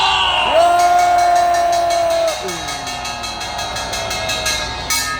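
A crowd at a Korean street rally against a presidential impeachment shouts and cheers for about five seconds, loud and sustained, with a horn-like tone sliding through the roar early on.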